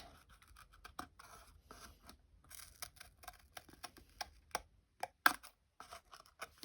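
Scissors cut paper for a Paper Pumpkin craft project up close, making a quick series of crisp snips and rustles with short pauses in between.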